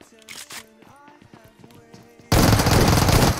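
An S12 shotgun in PUBG Mobile fires a loud, dense burst of gunfire that cuts in abruptly after a quieter stretch of game sounds, with talk heard earlier.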